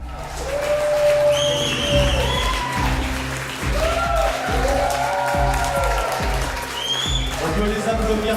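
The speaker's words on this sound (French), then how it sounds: "On peut les applaudir très fort quand même" An audience applauds at a competition finale; the steady clapping runs under music and voices talking throughout.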